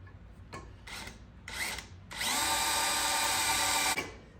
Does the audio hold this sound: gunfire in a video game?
no